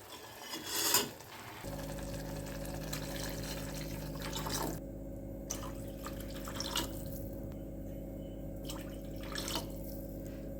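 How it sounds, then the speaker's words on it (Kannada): Water is poured into a pan of tempered spices while making rasam, a steady close pour with faint drips and splashes over a constant stovetop hum, no voices. "ಇವಾಗ ನಾನು ನೆಕ್ಸ್ಟು ಬೇಕಾಗುವಷ್ಟು ನೀರನ್ನು ಹಾಕ್ತಾಯಿದ್ದೀನಿ"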